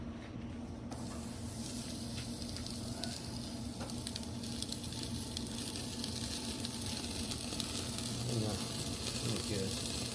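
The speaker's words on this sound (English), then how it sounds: "all we need is basically just to get the fat to crisp it up" Picanha steak fat seared with a red-hot searer on high, giving a steady broadband sizzle and hiss that holds for the whole stretch with a faint low hum underneath.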